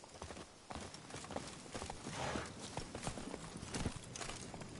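Roach, a horse in the video game The Witcher 3, gallops with a steady patter of hoofbeats over a dense, noisy background that stays fairly even throughout.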